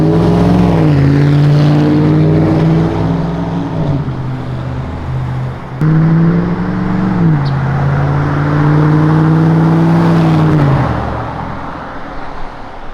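A 2013 GMC Sierra pickup with a 5.3 V8 and a Carven Competitor exhaust cruises along, giving a loud, steady low drone that rises and falls gently with throttle, close and continuous without talk.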